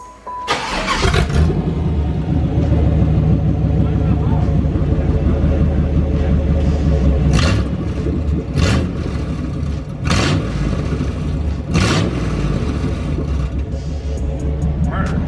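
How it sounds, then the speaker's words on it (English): A Nissan S14 engine with a new exhaust cranks and fires up, then settles into a loud, deep rumbling idle with several sharp revs toward the end. "Are you gonna fire up your new exhaust?"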